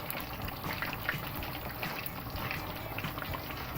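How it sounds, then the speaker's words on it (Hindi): Fish frying in a pan of hot oil, a steady, close crackling sizzle that holds evenly throughout with no talking. "इसे तब तक फ्राई करेंगे जब तक इसके ऊपर अच्छा सा गोल्डन कलर ना आ जाए"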